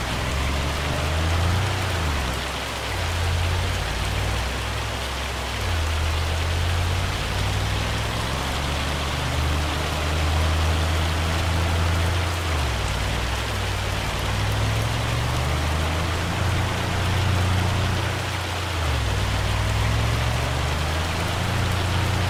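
Steady, dense rain from a hailstorm drums over a farm in Farming Simulator 25, a continuous broadband wash with low rumbling underneath, loud and unbroken throughout with no voices.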